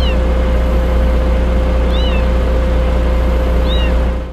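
Kitten meowing under a bridge over the Meriç River, with three short, thin cries spaced about two seconds apart over a loud steady hum and background drone.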